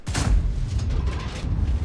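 Blind shot from a tank cannon in World of Tanks, a heavy boom near the start followed by rumbling low battle noise and scattered distant blasts, with no talking.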